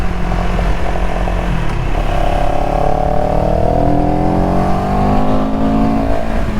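A CFMOTO CLX 700 motorcycle rolls on power in third gear, a steady loud engine drone whose pitch rises smoothly as it pulls, heard close from the rider's position.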